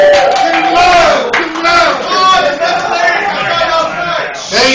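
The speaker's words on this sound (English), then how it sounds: "Start applauding for my good friend, Rashad." A comedy club crowd at The Grisly Pear cheers and applauds for comedian Rashad as he is brought on stage, a dense, loud roar of voices and whoops throughout with a host talking over it.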